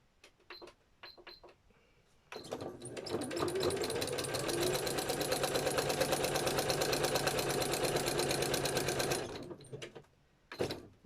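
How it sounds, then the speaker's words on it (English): A sewing machine zigzag-stitches pages of a Gelli-printed art journal. A few short taps start it, then it runs in one long, rapid, rattling burst for about seven seconds before stopping, with brief stitches afterward. "I think we'll zigzag that one on."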